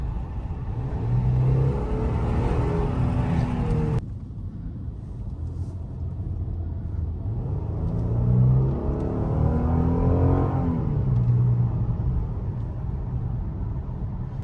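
A Genesis with a 3.8 V6 and a deleted muffler revs in two surges, the second climbing and falling slowly. The exhaust gives a deep, loud rumble that stays steady throughout.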